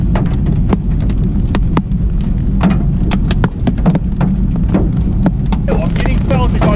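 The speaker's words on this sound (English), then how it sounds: "it's big hail coming down now." Large hail pelts down during a thunderstorm near Edenburg, South Africa, as a dense, loud roar with sharp, irregular impacts cracking through it, heard close up and continuous throughout.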